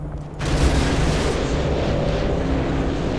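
A Predator drone missile explodes in the video game Modern Warfare 2: a sudden loud blast that swells into a sustained roaring rumble and slowly fades, with no voices over it.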